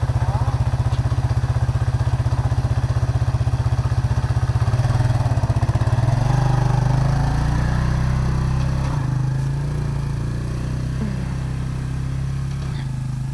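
A four-wheeler ATV engine runs close by with a steady, rapid low putter, then the pitch rises and settles into a smoother hum as it revs and moves off, staying loud throughout.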